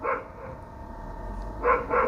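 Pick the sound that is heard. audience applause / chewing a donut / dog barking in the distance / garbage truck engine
dog barking in the distance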